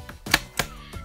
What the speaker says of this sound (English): it's basically like a typewriter, but it writes Braille